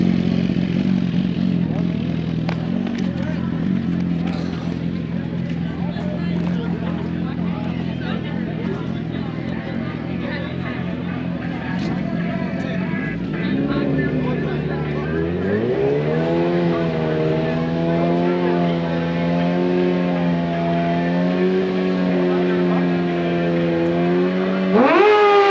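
A drag racing motorcycle roars down a track in Alabama, a loud engine note climbing in pitch through the gears with a rising, sustained whine, heard from a distance over crowd babble.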